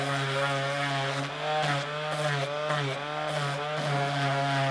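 A steady, buzzing motor whine from a power sanding pad running continuously with slight pulsing against a wooden fence post cap.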